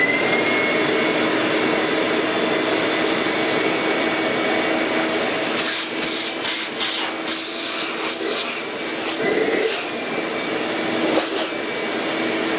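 A Ridgid HD1200 shop vac runs steadily and loudly with a constant broadband roar and whine, with brief shifts in tone partway through as airflow changes.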